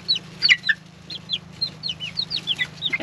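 Young chicks in their first time in a coop with wood shavings peep and chirp in quick, high, overlapping bursts close by, over a steady low hum.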